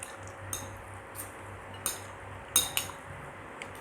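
Utensils clinking and scraping against a plate while stirring a large portion of noodles with thick sambal at a Mangga Besar bakmi shop; a handful of light, sparse clinks, fairly close, with no talking.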